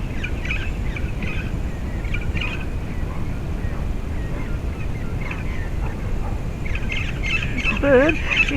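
A bird calls repeatedly near a small hovering drone, with bright chirping notes coming in scattered bursts over a steady low whir, and someone talks through part of it.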